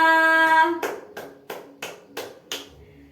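Classmates in a classroom lesson clap for a student in about six evenly spaced, sharp unison claps, close and distinct, following a brief bit of sung or spoken tone at the start.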